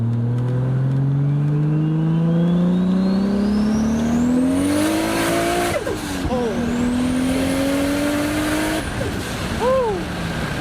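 A Toyota Supra pulls hard in second gear from a cold start, its engine note rising steadily and loudly, with brief dips at each shift and a second climb, blowoff-like chirps near the end.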